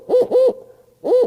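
A man imitates an owl's hooting call with his voice, giving three clear, resonant hoots in quick succession, then a short pause and a fourth hoot, each close and loud with no other sound.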